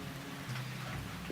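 Rain falling as a radio drama sound effect, a faint, steady patter with a soft low rumble underneath, short and unbroken.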